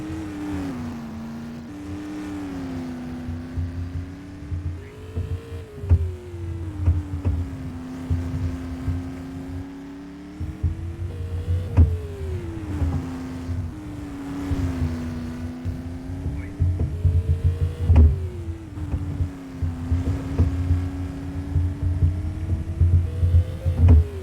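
Number 25 race car running laps on the Madera Speedway oval during time trials, a steady engine drone that rises and falls in pitch through each lap, continuous and fairly close with no talk.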